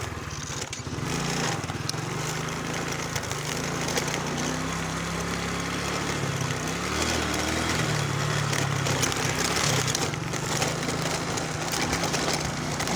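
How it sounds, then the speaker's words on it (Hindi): A motorbike engine drones continuously while riding along a road, a close, loud buzzing hum with wind rumble and shifting pitch as speed changes. "अब मेरे बाइक की आवाज़ भी आपको साथ साथ बर्दाश्त करनी पड़ेगी"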